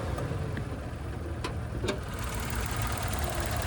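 A 2024 Mitsubishi Mirage ES with a 1.2-liter naturally aspirated three-cylinder engine idles, heard as a steady, fairly quiet low rumble with a faint mechanical ticking that holds even throughout, with no talking.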